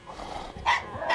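A dog gives a couple of short, sharp barks, fairly close, over faint background noise.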